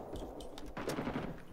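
An M60 machine gun firing in the video game Rising Storm 2 on the Cu Chi map, a short rapid burst of rattling shots heard quietly and somewhat distant.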